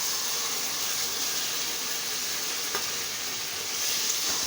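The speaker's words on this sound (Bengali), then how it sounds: "এবার যে ভেজে রাখা মাছটা আমি এবার দিয়ে দেবো।" Fried loitta fish tipped into a pan of sizzling spiced masala, giving a steady, close, bright frying hiss that runs unbroken, with a faint clink partway through.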